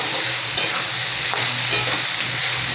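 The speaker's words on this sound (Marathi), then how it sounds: "ह्याला अजून परतून घ्यायचं। शेंग तेलामध्ये परतल्यामध्ये त्याचा खमंग वास येतो शेंगेचा।" Beans sauté in oil in a pan, a loud, steady close sizzle with occasional sharp scraping strokes as they are tossed, and no voices over it.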